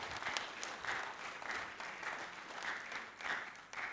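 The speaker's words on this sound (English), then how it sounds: "it is now right for us to give him the round of applause that he wants" Audience at a live-streamed gathering in Nigeria giving a round of applause, a sustained, fairly faint patter of clapping with rhythmic swells, as if many hands clap together.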